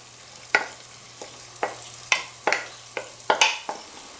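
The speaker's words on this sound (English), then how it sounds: "Give that a nice little stir. Don't want that to sizzle for too long." Vegetables sauté in a pan, sizzling softly while a utensil scrapes and stirs in irregular clacks, close by, with no talking.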